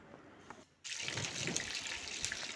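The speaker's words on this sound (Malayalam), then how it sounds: "ചൂടായ പാനിലേക്ക് 1/2 കപ്പ് ഒലിവ് ഓയിൽ ഒഴിച്ചു." Half a cup of olive oil pours into a hot pan, a sudden soft gushing, hissing rush that starts after a brief quiet moment and continues steadily.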